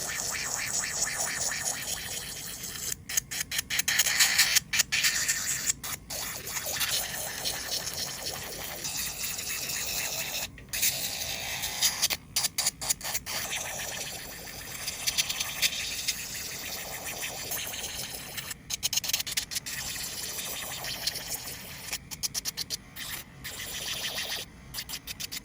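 A nail file buffs the shine off polygel nail tips in a steady, close, continuous scratchy rasp, with brief pauses between passes and no speech.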